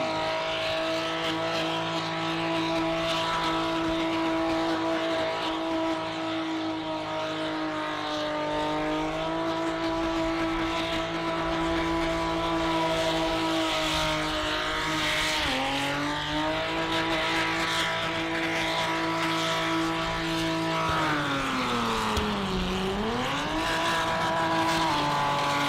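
Race cars doing burnouts at the Garrett Adelaide Jamboree 2023, an Australian sports compact drag racing event: a loud, sustained engine roar with revving and pitch sweeps, tire squeal mixed in, steady throughout with no talk.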